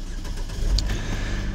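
A 2015 Chevrolet Equinox engine with 124,793 miles cranks briefly and catches, settling into a low steady idle close by.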